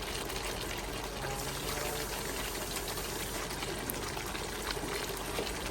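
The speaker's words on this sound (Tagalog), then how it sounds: "So ngayon, lalagyan po natin to ng, nagdagan po ng konting tubig." A little water being added to pork caldereta in a pot, giving a steady close watery hiss and bubbling that continues evenly throughout at moderate level, with no clear talking over it.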